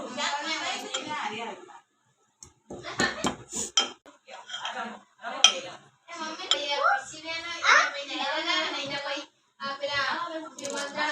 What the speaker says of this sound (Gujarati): હું આદુ ખાંડું છું